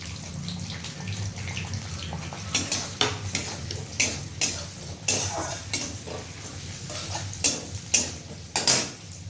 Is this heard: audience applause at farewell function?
no